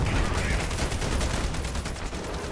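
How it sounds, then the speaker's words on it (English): AC-130 gunship cannon fire in the game Ravenfield, a dense rapid stream of heavy gunshots and impacts pounding without pause, loud and close with a deep rumbling low end. "I think that was our AC-130 gun"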